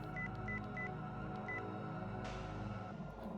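An outgoing phone call dialing tone in the video game Chaos;Head plays as a few short, evenly spaced beeps over a steady background drone of music.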